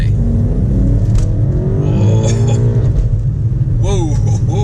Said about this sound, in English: This thing pulls so hard, and because all four wheels are biting, there's virtually little wheel spin